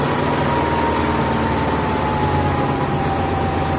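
A Honda gas-powered AEC welder generator engine idles steadily while warming up, with a constant close, loud mechanical drone and rapid chugging pulse throughout.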